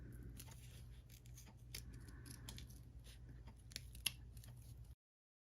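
Scissors snip away leftover paper in a series of quiet, close crisp cuts with no voices, then a brief silence at the end.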